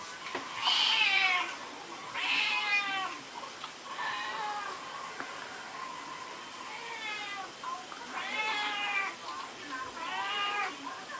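A cat meows repeatedly in a series of drawn-out, wavering cries, moderately close, with short pauses between calls and a quiet room hiss underneath.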